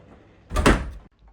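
A wooden door to the WC in an old countryside cottage opens with a single close, broad creak-and-thud lasting about half a second, followed by quiet.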